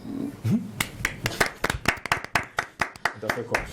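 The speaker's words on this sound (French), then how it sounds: "On va applaudir encore." Sparse, uneven clapping from a small studio audience on a Burkina Faso television magazine show, distinct individual claps in an irregular rhythm, close and fairly loud, with a brief voice at the start.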